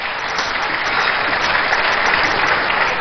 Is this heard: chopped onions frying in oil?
no